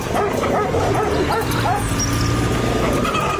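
Dogs chasing people near a chicken farm bark and yelp in a busy, noisy scene, a continuous excited chorus close by.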